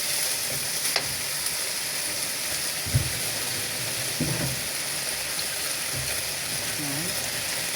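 Beef and ginger sautéing in a pan, a steady low sizzle with occasional clinks and scrapes of stirring over a faint hiss, fairly quiet and without talk.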